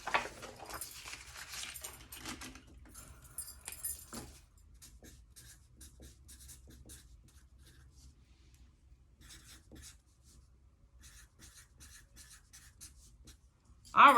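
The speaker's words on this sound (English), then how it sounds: "let's go ahead and write that down" Pen scratching on paper at a desk, faint and close, with quick scratchy strokes early on, then quieter intermittent marks and a brief louder sound at the end.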